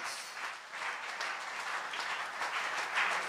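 A church congregation applauding during a worship session, a soft, fairly distant patter of many hands that swells and dips slightly across a few seconds, with no speech on top.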